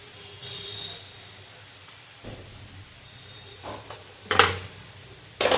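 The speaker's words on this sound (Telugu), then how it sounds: "సో కారం వేసేసుకొని బాగా మిక్స్ చేసుకుందాం." Cabbage curry with chili powder is stirred in a pan: quiet sizzling, then a few scraping, clattering spoon strokes that grow louder toward the end, close by with no speech.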